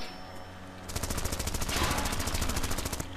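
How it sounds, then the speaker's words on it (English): Rapid bursts of machine-gun fire cut down zombies in the PC game Zombie Driver, a short quiet lead-in giving way to fast, evenly spaced shots that continue to the end. "Killing zombies in the area using my machine guns."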